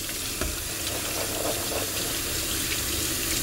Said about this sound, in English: So we're just going to give them a good rinse to get rid of all that extra salt.